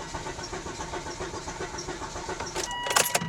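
A car engine cranking after a fuel pump replacement, a steady mechanical churn with no talk that rises into a louder, harsher burst near the end.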